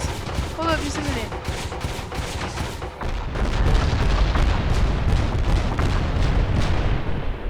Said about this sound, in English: Sit back and enjoy the fireworks.